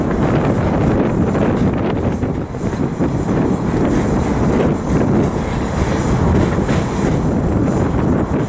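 A West Colton freight manifest train rolls past loudly and close by, a dense continuous rumble of rail cars with faint clickety-clack and heavy wind buffeting the microphone throughout.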